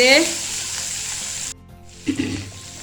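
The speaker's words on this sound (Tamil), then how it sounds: "நல்லா ஃப்ரை ஆகட்டும்" Ingredients for ivy gourd rice sizzle in a pan after a light sprinkling of salt, a bright steady frying hiss that cuts out halfway, then resumes more quietly with a couple of stirring clatters.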